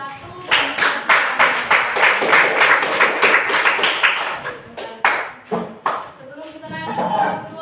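Participants in a teacher coaching workshop give group 1 a round of applause: loud, fairly rhythmic clapping in quick repeated bursts that slows into a few separate claps near the end, with voices talking alongside.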